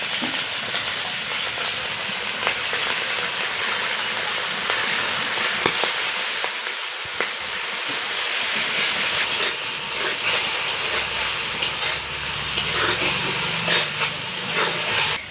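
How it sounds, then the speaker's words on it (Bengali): A spice paste of ginger, cumin, coriander, green chilli and turmeric fries with a splash of water in a pan for rohu fish curry, giving a steady, loud hiss and sizzle that runs the whole time with no talking. "জল দিচ্ছি, দেখুন অল্প একটু জল দিয়ে দেবো, মশলাটা ভাজতে হবে।"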